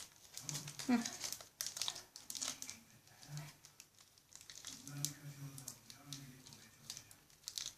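A crisp packet crinkling and rustling while being taped to make a digital pen, close and uneven, with brief tape sounds.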